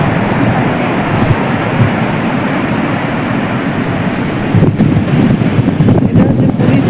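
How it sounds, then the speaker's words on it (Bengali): Sea waves rolling in at Puri beach as the tide rises, a loud continuous roar of surf mixed with heavy wind buffeting the microphone, with no break across the whole stretch. "মনে হয় জোয়ার আসছে।"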